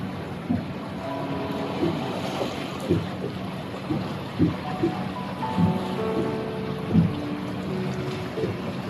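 Small waves lap against a boat hull on a calm evening channel, soft irregular splashes and knocks repeating every second or so over steady wind and water hiss.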